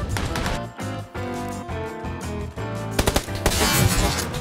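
Rapid automatic gunfire from PUBG Lite, a shooting video game, rattles in loud, dense bursts with short pauses, then a few sharp separate shots and a harsher, busier burst at the end.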